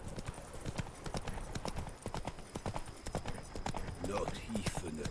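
Horse hooves clip-clopping in The Witcher 3 video game, a quick steady rhythm of close hoofbeats, with a brief whinny near the end.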